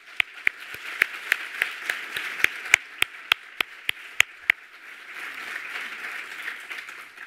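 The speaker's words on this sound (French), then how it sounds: "je voudrais que vous vous applaudissiez" Scattered sharp claps ring out at an awards ceremony, about a dozen distinct hand claps that stop halfway, leaving a low murmur of room noise.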